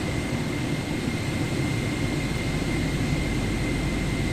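Airliner engines idle before takeoff in Microsoft Flight Simulator 2024, a steady, loud jet roar with a constant whine, continuous and unchanging throughout with no talking.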